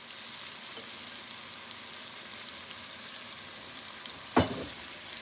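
Steak sauce of flour and red wine simmering in a pan, a soft, steady sizzle at low level, broken near the end by one sharp knock of a utensil against the pan.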